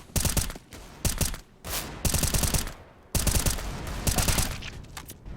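Automatic gunfire in CS:GO on the Train map during a professional Virtus Pro versus G2 league match. Several loud rapid bursts of shots separated by short gaps, with no voices.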